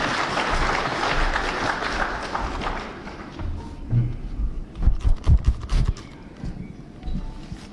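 Audience applause at a political gathering: a dense wash of clapping for about three seconds that thins out into scattered claps and a few heavier thumps.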